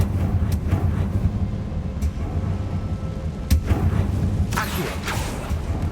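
A Confringo fire spell explodes in Hogwarts Legacy on PS5, giving a few sharp booming blasts with crackling bursts over steady game rumble and ambience.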